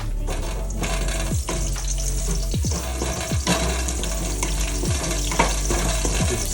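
Lemongrass goes into a pan of stir-fried vegetables and aromatics for a Hmong-style venison stew, setting off a steady, loud sizzle and fry with scraping stir clicks and knocks throughout.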